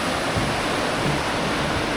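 A mountain stream in the Pamir mountains of Tajikistan rushes steadily beside a campsite, a constant loud wash of flowing water with no talk.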